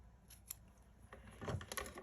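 Scissors with magnets stuck to them cut craft paper and foil while a box is being made, giving a few quick, crisp snips that bunch up louder toward the end over faint room noise, with no talking.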